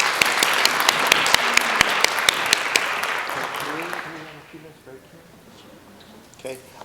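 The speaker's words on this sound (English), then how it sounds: "So a round of applause for the second round." An audience at a school spelling bee claps briskly for about four seconds with a few sharp individual claps standing out, then the applause fades and a voice begins talking.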